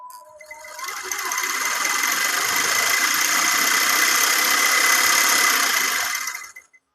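A free-energy genset engine runs loudly and steadily at close range, a constant mechanical drone with a faint whine that holds for several seconds before cutting out abruptly, with no voices.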